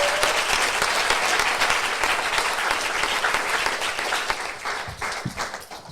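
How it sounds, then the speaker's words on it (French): Warm, sustained audience applause for guests at a running-themed live event, a dense steady wash of many hands that is loud and close and slowly thins toward the end. "j'aimerais bien qu'on les applaudisse chaleureusement."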